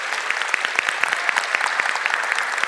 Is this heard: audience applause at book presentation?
yes